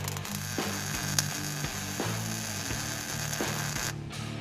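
Welding on the axle truss of a dirt track car, a steady crackling buzz broken into short repeated beads with brief pauses between them, close and continuous with no talking.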